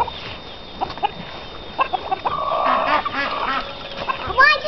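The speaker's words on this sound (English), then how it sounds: "Look at how big that chick is wandering around." A large bantam chick wanders around a yard and clucks in a few short bursts, with honk-like fowl calls nearby and people talking over it.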